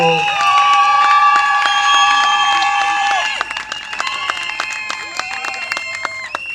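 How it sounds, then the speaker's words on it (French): A crowd at a civil wedding ceremony cheers with high, sustained shouts, then breaks into loud, scattered handclaps that continue unevenly to the end. "Applaudissez, applaudissez pour..."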